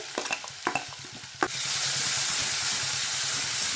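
Turmeric and ground masala paste added to urad dal in a hot pan: several sharp scraping clatters, then a sudden loud, steady hiss of sizzling that continues close by, no voices.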